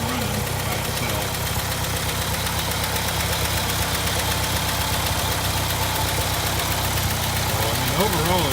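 A 1964 International Scout 80 engine idles steadily on its own just off choke, a continuous low mechanical rumble with a faint knocking pulse.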